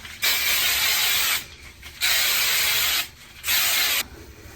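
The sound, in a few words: regular hairspray being sprayed on curly hair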